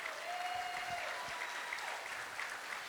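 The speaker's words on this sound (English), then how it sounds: "If you could give them a round of applause, please." Steady round of applause from a dinner crowd at a county party's Lincoln Reagan dinner, thanking volunteers; dense, even clapping sustained throughout at moderate distance, with a faint tone underneath.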